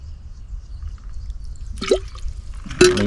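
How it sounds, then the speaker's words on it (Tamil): Water is poured in small splashes into a fish masala paste being mixed by hand for a mackerel tawa fry, giving two brief, close liquid drips or plops against a quiet background. "லைட்டாக நமக்கு தேவையான அளவுக்கு தண்ணி ஊற்றிக்கலாம்."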